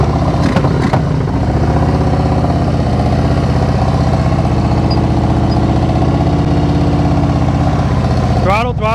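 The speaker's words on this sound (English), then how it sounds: "I'm gonna come to a stop and I want you to listen to my throttle" A motorcycle engine runs loud and close while the rider throttles and comes to a stop, a constant low rumble with brief revving bursts at the start and end.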